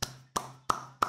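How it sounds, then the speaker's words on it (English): Four sharp hand claps in an even, quick rhythm, close and fairly quiet, with short pauses between them. "I have to clap for this"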